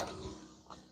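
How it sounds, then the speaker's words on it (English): A greenhouse door is pulled open and gives a drawn-out, close creak with a strained, grinding tone lasting about a second. A second, shorter squeak comes near the end. "I got to open the door here."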